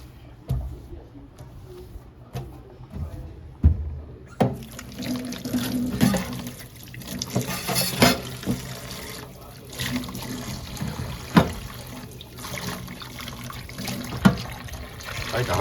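Tap water running into a kitchen sink while washing up after cooking, a steady close splashing and trickling with occasional knocks and clinks of dishes.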